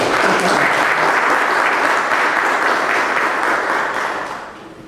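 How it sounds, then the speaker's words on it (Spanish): Loud, dense applause from a large audience welcoming a speaker at a law conference on hearing advocacy skills, sustained for several seconds, then tapering off at the end. "quisiera que la recibamos con un fuerte aplauso como bienvenida"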